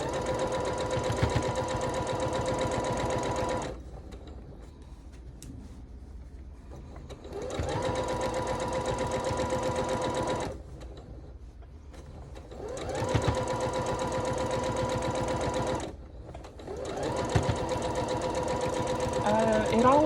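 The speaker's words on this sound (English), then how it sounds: "Oh, it's still on super speed from winding my bobbin." Sewing machine stitching at high speed while quilting, a rapid buzzing whir in three long bursts separated by short pauses, fairly close.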